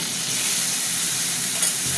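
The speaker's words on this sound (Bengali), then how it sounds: "ভাজা ভাজা হতে থাক পেঁয়াজটা।" Onions fry in hot oil while being stirred in a home kitchen, making a steady, close sizzle with scraping stir sounds throughout and no talk.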